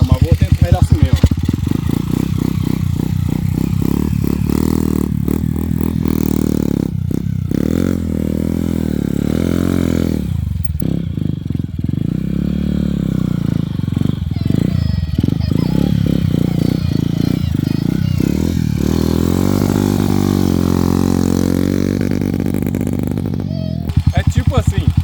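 A motorcycle engine fitted to a bicycle revs repeatedly, rising and falling in pitch, loud and close, with a voice speaking over it at times.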